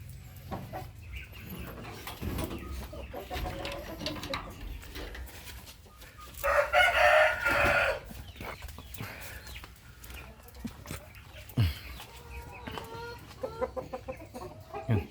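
Free-range upgraded native and Brahma chickens cluck softly and sporadically nearby. A louder, raspy burst of calling stands out in the middle of the scattered clucks.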